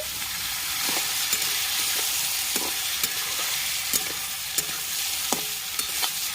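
Steady sizzling of sliced bitter gourd frying in a pan, punctuated by regular scraping clicks of a utensil stirring.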